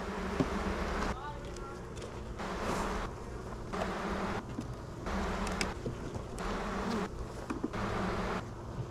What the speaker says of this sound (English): One of these hives is about to die, and you can hear it in the buzz.